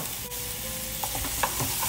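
Shallot, garlic and chopped cayenne peppers sautéing in a pan, a steady close sizzle with a few soft stirring knocks.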